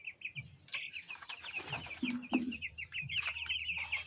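Broiler chickens, about twenty kept in a pen, clucking and chirping in quick repeated calls, close and moderately loud, with a few low grunting clucks mixed in.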